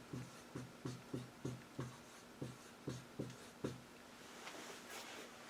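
Pen writing out an algebra equation in slope-intercept and function notation, heard as a string of soft, regular taps and strokes, close and quiet, about ten evenly spaced marks that thin out toward the end, with no voice.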